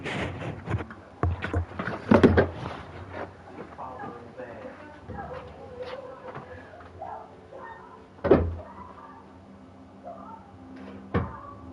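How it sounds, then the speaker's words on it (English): A bedroom door is pushed shut, landing as one solid thud partway through, with a lighter knock shortly after against a faint room background and a little muffled movement. "I'm just gonna go shut my door"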